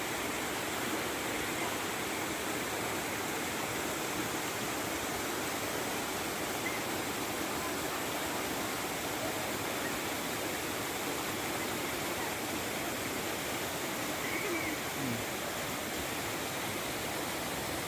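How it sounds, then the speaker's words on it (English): Water pours steadily down a hillside waterfall, a continuous broadband rushing roar that stays even and unbroken throughout, with no voices. "the full view of the water flow which is flowing from the top, and as it flows it gets stronger, and you can see where it falls"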